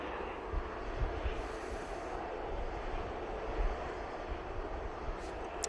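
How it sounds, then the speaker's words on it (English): An engine roars steadily at a distance as a Jet2 Airbus A321neo taxis behind the Jet2 hangar at Manchester Airport. The noise is broad and continuous and fairly faint, with no talk. "we've got a Jet2 321neo. It's pinging round the back at the Jet2 hangar"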